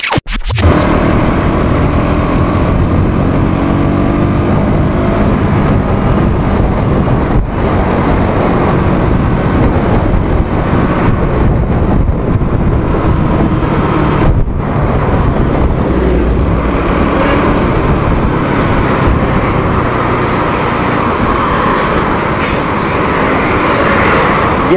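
A KTM Duke 200 BS6 motorcycle rides along a road after its second service, with steady engine drone and loud wind rush sustained throughout, no voices.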